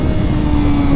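A sport bike engine holds a loud, steady mid-pitched rev up close, the throttle held open as a rider prepares a wheelie, with no voices.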